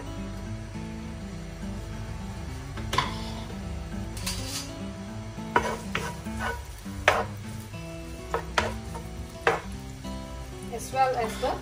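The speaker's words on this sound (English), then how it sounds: "Once the oil is hot, add in the ginger." Ginger hits hot oil in a wok and crackles in a busy sizzle, with sharp spatula scrapes and clinks breaking through at intervals, fairly close and heard on its own.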